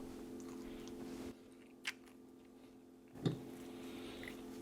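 A crunchy, somewhat bland granola bar being chewed up close, a few faint bites and crunches standing out against a steady low hum.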